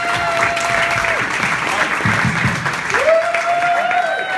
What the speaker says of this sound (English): Can we have a round of applause for her helpers and Karen?